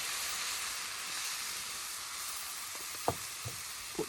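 Milk goes into kedgeree of rice and poached fish in a pan on an outdoor camp stove, producing a steady hissing sizzle with a few small clinks toward the end.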